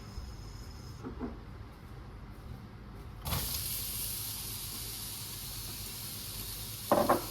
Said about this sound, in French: Une fois notre huile chaude, on y met les oignons.